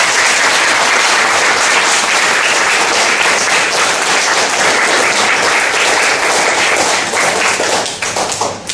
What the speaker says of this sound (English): Let's thank the speaker for answering all of our questions.